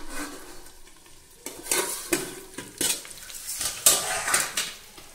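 A metal pan lid clanks and rattles as it is lifted off fish paturi cooking in bottle gourd leaves, with soft sizzling and several sharp metallic knocks and scrapes underneath.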